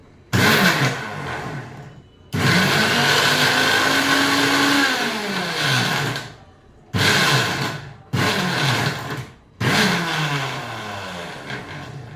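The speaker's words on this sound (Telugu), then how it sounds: "ఇది గ్రైండ్ అయ్యాక పాలు పోసి గ్రైండ్ చేయాలి" A blender grinds pineapple with milk and sugar in five loud whirring bursts, with short pauses between runs and the pitch shifting as the mixture thickens.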